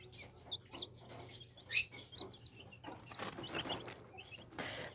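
Thirteen-day-old Silkie and Serama chicks make soft, low clucking sounds and occasional peeps while feeding in a small cage, all faint and close, with no talking.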